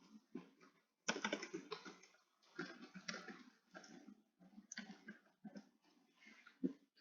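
Quick clicking keystrokes on a computer keyboard come in irregular bursts and short pauses, close and fairly quiet, with no voice.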